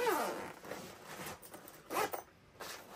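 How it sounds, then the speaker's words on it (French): Zipper running around a Hobbytech Racing 1/8-scale RC buggy transport bag being pulled open, a close, scratchy ratcheting rasp in several uneven strokes over about three seconds with no talking. "Une fermeture éclair ici qui fait le tour."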